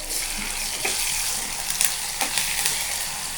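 Cauliflower leaves fry in a pan for a village-style cauliflower bhaji, giving a steady broadband sizzle with occasional sharper crackles and spatters, close and continuous, with no talking.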